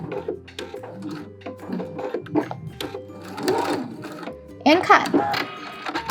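A sewing machine stitching quilting lines across a potholder runs in short whirring bursts, including a couple of quick back stitches, with a person talking over it.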